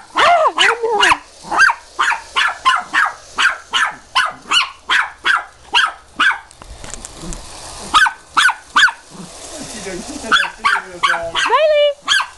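A small dog barks in a rapid, loud, steady series of sharp yaps, close by, with a brief pause and some whimpering yips near the end, outdoors near a passing train.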